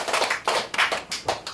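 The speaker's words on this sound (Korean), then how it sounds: "박수." A group claps in a short burst of quick, uneven hand claps, close and fairly loud, during a Korean church Bible lesson with no talking over it.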